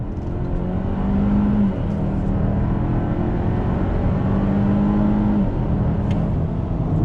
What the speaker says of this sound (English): as we pull on the highway, let's do another on throttle. On throttle, here we go.